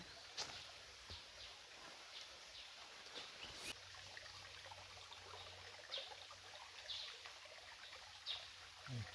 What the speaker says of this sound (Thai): ตอนนี้เราเดินมา ถึงลำธารแล้วครับ